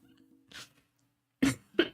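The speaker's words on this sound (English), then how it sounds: "Moment, I got a cough." Three short, close coughs from one person: one softer cough, then a pause and two sharp coughs in quick succession, with no talking.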